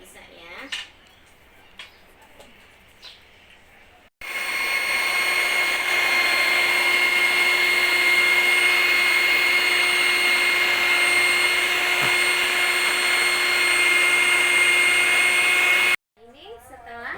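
An electric hand mixer runs steadily in a kitchen, stirring a batch of soap made from used cooking oil, a continuous loud whir with faint tonal hum lasting about twelve seconds, bracketed by brief clinks and quiet handling sounds.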